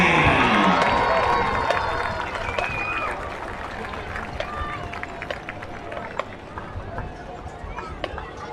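Stadium crowd cheers and applauds for a high school marching band at a high school football game, loudest at the start and then settling into a steady roar with scattered shouts.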